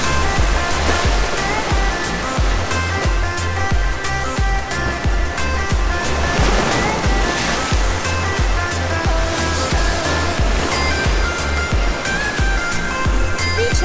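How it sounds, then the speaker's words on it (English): Heavy surf during typhoon season roars steadily at a beach in Santa Maria, waves breaking one after another in a loud, continuous wash of water with no voices. "enjoying the sounds of the waves since I've been here at the house because I could hear it"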